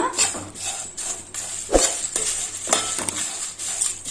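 Whole spices for biryani masala, including pepper and kasuri methi, dry-fried in a metal pan, a steady rhythm of scraping stirs and clinks from the spoon hitting the pan, close and clear.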